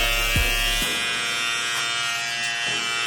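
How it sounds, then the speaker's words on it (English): A Bevel trimmer with its blade attachment running, a steady close electric buzz with a bright whine that holds throughout, after a brief low click as it switches on. "So here is the bevel blade. Let's listen to how it sounds."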